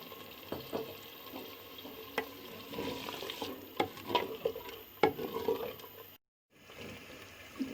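Lassi-based gravy being stirred continuously with a spoon in a pot before it boils, soft scraping and clinking strokes with faint bubbling, quiet and close, a brief silent gap near the end.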